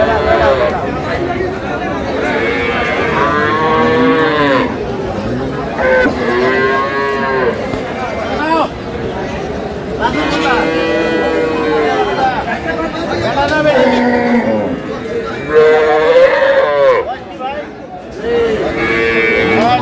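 Cows and calves at the Aftabganj cattle market in Dinajpur, Bangladesh, give repeated loud moos, close by, over a steady babble of people talking and bargaining.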